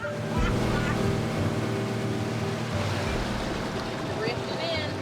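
A boat moves across water off an Alaskan island with a steady engine drone, splashing and wind noise throughout, fairly close and continuous.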